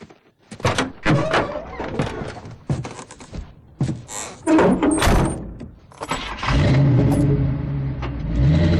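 A car door thunks shut, then an engine starts and revs up steadily in the video game Alan Wake Remastered, with a few loud clunks and action sounds before the engine settles into a sustained drone.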